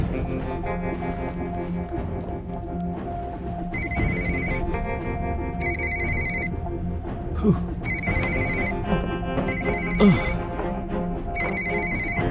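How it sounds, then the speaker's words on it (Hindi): A phone's ringtone plays for an incoming call, a steady looping electronic melody that fills the room loudly and continuously, with faint speech beneath it. "सुबह सुबह किसकी कॉल आ रही है?"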